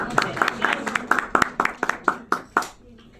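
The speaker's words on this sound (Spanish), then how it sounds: "Un aplauso para esa clase." A small class claps together in a loose, rhythmic patter of about a dozen sharp hand claps, fairly close and steady, with voices murmuring underneath.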